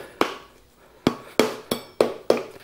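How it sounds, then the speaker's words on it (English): Rubber mallet tapping a part into place on a T-bucket hot rod kit, six sharp, close knocks with short ringing tails, one lone strike followed by a quicker run of five. "Rubber mallet would probably help. And we'll just give it just a nice little tap."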